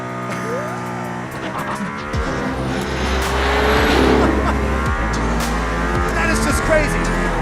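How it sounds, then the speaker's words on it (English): A Mercedes-AMG ONE hypercar accelerating hard around the Barcelona circuit, heard from inside as a loud, steady, rising engine roar with shifting tonal whine. Someone talks excitedly over it throughout. "He puts his foot on the throttle. It's like, oh, it's like a rocket ship."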